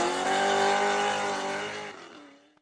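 A Chevrolet Corvette C6 race car roars past, a loud sustained engine drone that holds steady and then fades away as it recedes over a few seconds.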